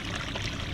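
Water pours steadily through a hydrocyclone recirculating clean-up sluice used for gold prospecting, a brief continuous rushing wash at moderate level with no voices.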